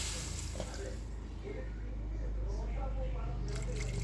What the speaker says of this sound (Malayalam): നമുക്കതിനകത്തോട്ട് അല്പം വെള്ളം ഒഴിച്ചു കൊടുക്കാം